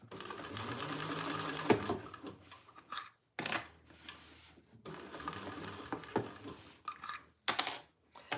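A Thor sewing machine top-stitches a trifold wallet in bursts of rapid mechanical stitching, separated by short pauses and faint handling noises, fairly close and with no talking.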